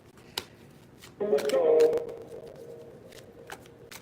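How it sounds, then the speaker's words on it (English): Tarot cards riffle-shuffled in a brief burst of rapid fluttering, near and fairly loud, with a few soft clicks before and after. "I'm going to shuffle some spill the tea cards while we're talking to Spirit."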